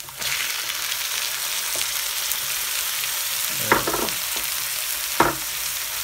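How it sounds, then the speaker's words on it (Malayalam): Garlic, ginger and green chillies fry in hot oil in a pan, a steady close sizzle broken by a few clinks and scrapes of a stirring spoon against the pan. "കുടം വെളുത്തുള്ളി പച്ചമുളക് ഒരു പത്ത് പച്ചമുളക് ഇത്രയിട്ടാണ് നമ്മളിപ്പോൾ മൂപ്പിച്ചെടുത്തിരിക്കുന്നത്"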